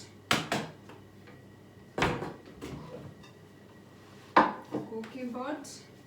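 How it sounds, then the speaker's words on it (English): Metal cooking pot pulled out and handled in a home kitchen while making Swedish pancakes, giving three or four sharp clanks and knocks spaced a second or two apart with light rattling between, close by and fairly quiet. "So we need a cooking pot."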